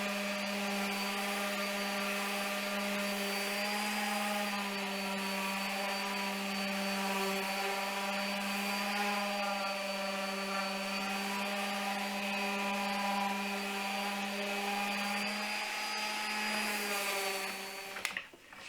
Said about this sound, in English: And then I'm going to sand them down with 180 grit sandpaper, and then followed by a 220 grit.